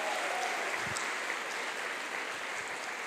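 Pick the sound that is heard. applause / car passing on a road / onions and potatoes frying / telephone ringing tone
applause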